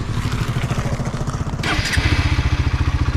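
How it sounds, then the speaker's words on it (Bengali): A Hero Xtreme 160R 4V motorcycle engine putters in a steady, rapid exhaust pulse close to the microphone, then revs briefly and settles back into a firmer, throbbing beat. "তো এই হচ্ছে হিরো এক্সট্রিমের এক্সস্ট নোট।"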